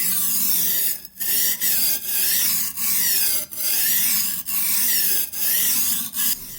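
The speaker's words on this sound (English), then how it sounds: "We'll start out at 250 grit to work out the chips." A Shun chef's knife is worked over a King 250 grit waterstone, chipped edge, in steady back-and-forth rasping strokes, about ten passes each broken by a brief pause, loud and close with no speech.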